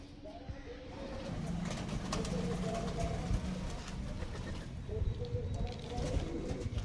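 Pigeons in a loft, Kaldum breed, coo repeatedly in soft, low, throaty calls, several birds overlapping close by, with faint rustling and fluttering around them.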